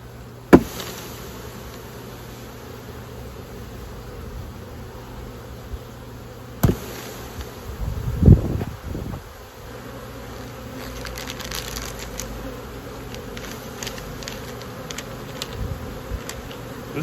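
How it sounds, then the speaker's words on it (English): Honey bees buzzing around an opened beehive in spring, a faint continuous hum of many insects heard up close over several seconds, with a few soft knocks and handling bumps from the hive. "They hold a lot of bees."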